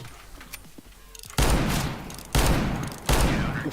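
Loud gunfire in the CS:GO video game's cowboy mode, with three heavy bursts of shots, each followed by a long roaring decay, after a quieter stretch of faint clicks.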